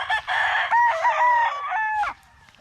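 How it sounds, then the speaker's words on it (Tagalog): A rooster crows loudly nearby on a farm, one long drawn-out call with chickens clucking softly underneath. "Daghan kay manok."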